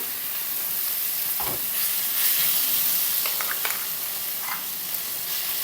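Chopped ridge gourd and green chillies fry in hot oil over a low flame, a loud continuous hissing sizzle with a few stirring clatters and no talking.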